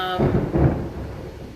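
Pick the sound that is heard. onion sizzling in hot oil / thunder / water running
thunder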